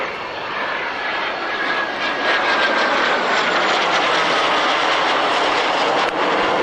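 A jet aircraft flying aerobatics at the 1996 Yeovil Airshow gives a loud, sustained roar that swells and holds steady as it passes, with no talking.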